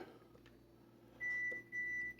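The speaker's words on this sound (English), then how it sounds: "My oven, as you can hear, is done. It beeped." Oven timer beeping to signal baking is done, two sustained electronic tones, the second following a short gap, fairly clear over a quiet kitchen hum.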